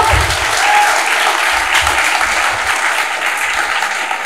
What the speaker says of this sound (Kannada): ಇವಾಗ ಚಪ್ಪಾಳೆ ಹೊಡಿಬಹುದು ನೀವು